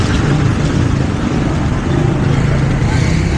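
Road traffic roars loud and constant during a motorcycle ride, with engine drone and wind buffeting blended into one broad wash and a voice faintly mixed in.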